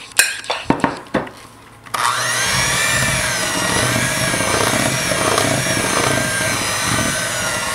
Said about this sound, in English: then you can start the hand mixer